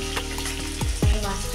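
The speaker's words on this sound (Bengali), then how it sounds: "মাছ চাপালাম, শোল মাছ নিয়ে এসেছি" Snakehead fish frying in a hot pan, a steady close sizzle with two heavier bursts and scraping stirs partway through, no voices.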